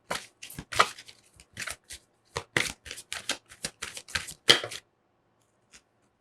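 Tarot cards are shuffled in quick bursts of riffling and flicking, close and crisp, with short pauses between handfuls before falling quiet at the end.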